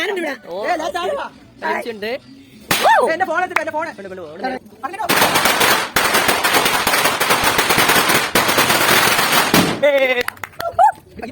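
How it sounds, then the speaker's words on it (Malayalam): A rapid, loud string of firecrackers bursts and crackles for several seconds at a Christmas celebration in Kollam, with people talking before and after. "പടക്കം പൊട്ടിച്ച് ആരംഭിച്ചിരിക്കുകയാണ്"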